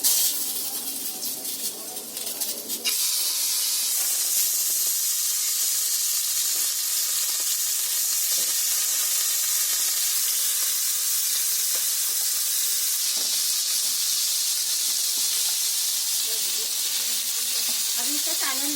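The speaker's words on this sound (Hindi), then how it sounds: "अभी मच्छी एक फ्राई करेंगे।" Fish fries in mustard oil on a hot pan, giving a loud, continuous close-up sizzle and hiss that holds steady throughout, with some clattering handling noise at the very start.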